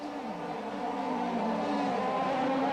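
Several 135cc racing karts at the 1986 Hong Kong Kart GP final run nose to tail, their engines merging into a steady, fairly loud buzzing whine that holds throughout without a break.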